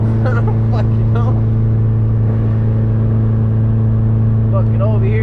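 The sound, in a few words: Honda Civic engine running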